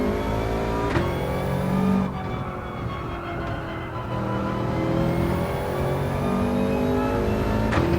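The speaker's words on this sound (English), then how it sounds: "Just a little bit engine braking with the downshifts." A race car in Gran Turismo 7 at the Nürburgring roars close and loud, its engine pitch dropping through repeated downshifts under engine braking, then climbing again as it accelerates away.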